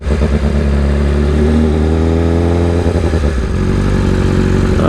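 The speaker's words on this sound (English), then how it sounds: "Downshifts with no clutch." A BMW S1000RR motorcycle engine roars loudly and continuously up close, its pitch stepping down through clutchless downshifts with quick blips and a burbling, crackling tone as revs drop.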